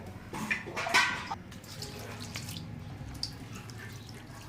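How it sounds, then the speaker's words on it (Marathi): Water poured over a handful of spinach to wash it, a quiet splashing trickle that swells briefly, then gentle dripping and handling of wet leaves. "असं पाणी ओतायचं आपल्याला"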